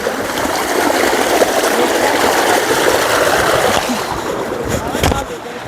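A village stream in Armenia splashes and rushes loudly and continuously as people jump across it, with some voices faintly mixed in near the end.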